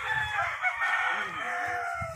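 Many chicks chirp and peep continuously in a dense, high-pitched chorus, with a few lower clucks underneath.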